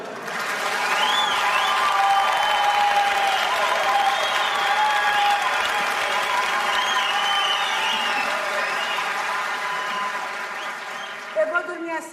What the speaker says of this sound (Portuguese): quando eu apertar aqui vocês aplaudem